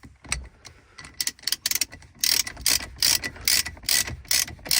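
A ratchet tightens an M12 bolt during a Touran Caddy airbag squib job, giving close, sharp clicking bursts that start sparse and uneven, then settle into a quicker, regular run of loud ratcheting strokes.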